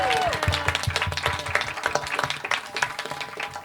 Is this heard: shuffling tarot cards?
no